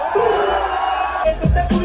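A concert crowd at a Punjabi music show roaring and shouting together, the noise swelling into loud bursts of cheers toward the end.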